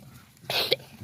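A goat coughs once after eating cracked corn, a short harsh burst close to the microphone over quiet background noise.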